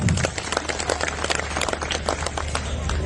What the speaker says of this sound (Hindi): ताली बजाओ अपने लिए एक बार।